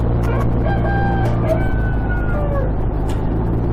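A computer email notification plays a recorded rooster crow, a loud cock-a-doodle-doo call rising and falling over a steady low hum, with no speech.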